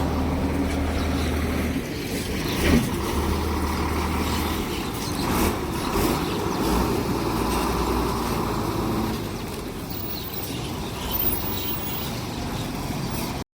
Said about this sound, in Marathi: आपली बस निघते लांजा बसस्थानकामधून